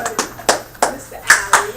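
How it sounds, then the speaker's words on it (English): Scattered applause from a small classroom audience: a handful of sharp, separate claps at an uneven, loose rhythm, close and fairly loud, with a voice speaking briefly underneath. "applause, man. Come on, let's go."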